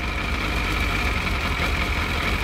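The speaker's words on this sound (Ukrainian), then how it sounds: "Холостий хід піднявся" A Yamaha FZS 600 Fazer motorcycle engine idles after carburetor synchronization, a steady, close, continuous low rumble with an even mechanical hum and no pauses.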